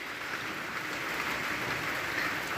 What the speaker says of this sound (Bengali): টুপুর টাপুর বৃষ্টি পড়ছেই দিন-রাত ২৪ ঘন্টা